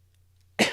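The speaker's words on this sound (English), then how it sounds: "Sorry for the coughing." A single sharp cough bursts out after a short silence, close and loud.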